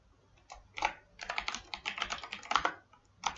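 Rapid typing on a computer keyboard while entering a login ID, a steady patter of close, crisp key clicks in uneven bursts with short pauses, no voices.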